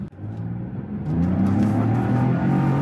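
A 2024 Buick Envista ST, a front-wheel-drive crossover, accelerates from inside the cabin, its engine drone steadily rising in pitch and growing louder over a few seconds, with no talking.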